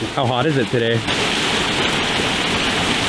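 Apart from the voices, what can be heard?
roadside waterfall rushing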